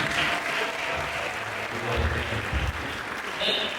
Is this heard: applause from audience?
yes